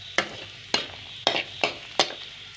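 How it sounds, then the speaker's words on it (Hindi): Garlic and onion frying in a pan while a spatula stirs, five sharp scraping knocks at a steady rhythm over a faint continuous sizzle, close by and without talking. "लहसुन को तकरीबन 1 मिनट भूनेंगे। साथ ही इसके अंदर प्याज जाएगा।"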